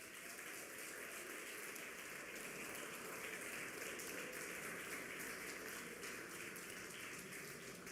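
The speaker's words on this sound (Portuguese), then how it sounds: "aplauda o Senhor Jesus" A Sunday church congregation gives sustained applause, a dense, even roar of many clapping hands that holds steady and moderately loud for the whole stretch, with no talking over it.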